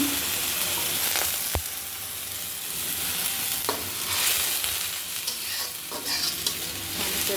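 Onions fry in oil in a pan with a loud, continuous sizzle, stirred now and then with sharp scraping knocks of a utensil against the pan, for a duck meat curry.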